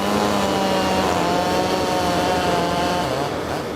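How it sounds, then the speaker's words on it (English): Chainsaws cut through fallen trees during cleanup after a winter storm in the Mountaintop area of Luzerne County, a loud, steady whining engine drone with shifting pitch that holds for the whole stretch with no talk. "The chainsaws are roaring across parts of Mountaintop."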